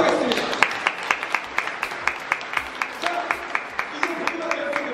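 Wedding guests applaud after a couple is pronounced married in a church ceremony, a steady run of near handclaps with a few sharper individual claps, with faint voices mixed underneath.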